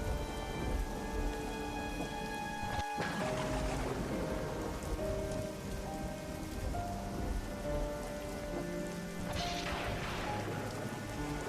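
Steady rain falls on a surface with a low roll of thunder. The dense, even patter fills the whole stretch, with soft musical tones in the background.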